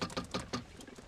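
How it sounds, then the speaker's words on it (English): Pigeons in a war film, a quick run of soft fluttering pulses with faint cooing, close and quiet, with no talk. "Most of these birds don't think they can fly halfway around the block."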